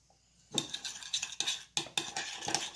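A spoon clinks and scrapes against a bowl while chicken is stirred into a turmeric, paprika and salt marinade, a quick run of close metallic taps and scraping strokes.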